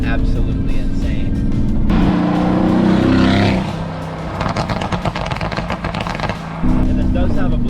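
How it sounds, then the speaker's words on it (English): Mercedes-AMG GT V8 with an aftermarket exhaust, a loud continuous engine roar that swells and drops with throttle, crackling bursts in the middle, all heard from inside the car. "Obviously this exhaust makes it sound even better, and it makes it louder, it makes it sound more pronounced"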